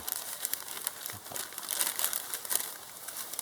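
Soft, continuous plastic bag crinkling and rustling as guava fruit on the tree is wrapped for protection, faint and close with no voices.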